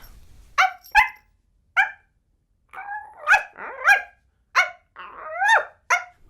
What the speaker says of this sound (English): Oh, that dog of yours. Why can't it stay quiet?